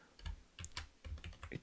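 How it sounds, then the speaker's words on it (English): Typing on a computer keyboard, heard as a quick, close run of light key clicks in small irregular bursts, faint and with no voice. "I will type"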